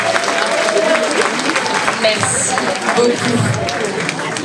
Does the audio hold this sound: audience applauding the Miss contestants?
yes